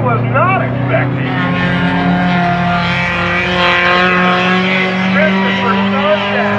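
Race cars roar around the oval at Monadnock Speedway during a spectator race, a loud continuous engine drone with rising and falling pitch as cars pass, while an announcer talks over it.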